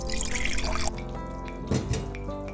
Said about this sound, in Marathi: अर्धा ग्लास पाणी घालू।